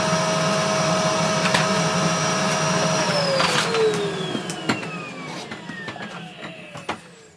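A Bosch GS40 vacuum cleaner with a clogged filter runs with tools attached, a steady whine that drops in pitch and fades as the motor winds down, with light clunks and clatter near the end.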